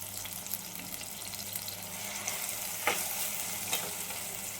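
Fresh curry leaves sizzle in a pan for a village-style dried-fish curry, a faint steady frying hiss with a couple of brief sharper crackles.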